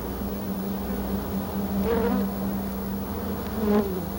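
A newly emerged honeybee buzzes in a steady, close, continuous drone that swells slightly twice as it cleans itself while its wings dry and harden.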